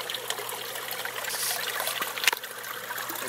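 Water trickles steadily from a valved tee on a fish tank's main feed line into a 5-gallon bucket, a close, continuous splashing dribble with one brief louder splash.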